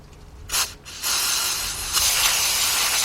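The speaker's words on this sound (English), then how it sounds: "got a little carburetor cleaner here" A short hiss of carburetor cleaner aerosol spray, a brief pause, then a long continuous spray burst close by, on a 2006 Kia Sorento's front wheel hub.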